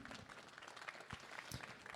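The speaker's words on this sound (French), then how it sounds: "Je pense qu'on peut les applaudir, s'il vous plaît." Faint audience applause after a round-table debate on video game and esports careers, continuous distant clapping throughout.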